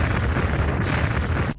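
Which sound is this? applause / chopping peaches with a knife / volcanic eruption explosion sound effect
volcanic eruption explosion sound effect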